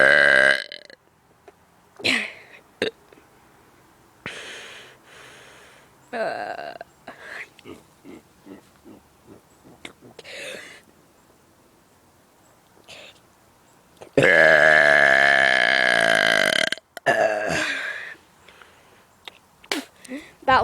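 Loud, long belches from one person, several bursts spread across the stretch with the biggest, drawn-out burp near the end, between quieter grunts and groans.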